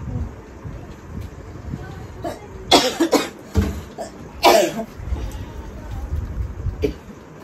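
A sick young girl coughs a few times in short harsh bursts, close to the microphone over a low rumbling background.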